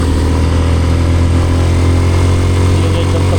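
A motorcycle engine runs steadily and loud throughout, a deep continuous hum on a flat road during a chill ride in the mountains of Calanasan, Apayao, with no talk over it.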